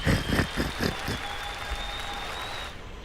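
An audience claps at a livestreamed music performance, brisk applause that thins out after a couple of seconds while a sustained tone lingers underneath.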